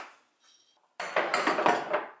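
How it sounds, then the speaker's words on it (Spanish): Dishes being washed after a meal: a brief faint clink, a short pause, then a loud burst of clattering plates, pots and cutlery knocking together close by. "ahora lo más bonito es que hay que fregar todos esos platos"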